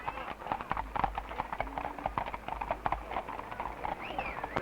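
Horses clip-clopping along a 1956 fiesta parade route in San Diego, many hooves striking pavement in an irregular, steady patter, moderately close amid crowd ambience.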